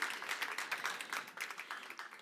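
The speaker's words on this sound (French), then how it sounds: "On peut l'applaudir, Laurence," An audience at the Trophées ellesdeFrance 2021 awards ceremony applauds the photographer Laurence. Soft, moderately paced clapping from a modest crowd sounds somewhat distant and quiet, with individual claps standing out in an uneven patter.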